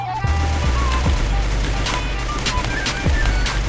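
Loud gunfire in the shooter game Free Fire, several sharp shots cracking at irregular intervals over dense, continuous game noise and music.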